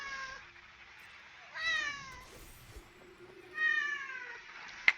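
A cat meows twice, drawn-out calls a couple of seconds apart, fairly close in an otherwise quiet room.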